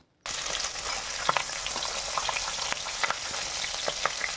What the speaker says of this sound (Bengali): এখন ভালো করে মাছের মাথাগুলোকে লাল লাল করে একটু ভেজে নেব।